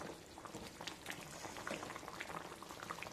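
Elephant foot yam tamarind stew bubbling at a steady boil in a pot, a dense, continuous mass of small popping bubbles with no voices.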